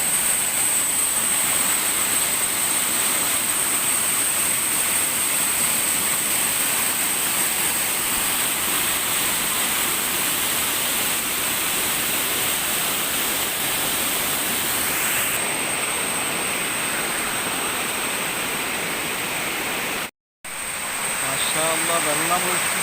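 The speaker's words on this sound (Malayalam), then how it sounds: "അവിടെ ആ വെള്ളം ചെന്ന് ഇടിച്ച് തെറിച്ച് പോകണമൊക്കെയാണ്." Water rushing and splashing at a waterfall at Oliyaruk, Anchal, a constant roaring broadband noise close by that stays loud throughout, with one brief dropout near the end.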